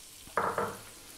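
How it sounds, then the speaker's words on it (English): Chopped onion hitting hot oil in a pan while cooking a chicken tomato pasta sauce: a sudden loud sizzle that flares twice in quick succession, then settles into a softer hiss, close up with no talking. "Let's start off by dropping in that onion"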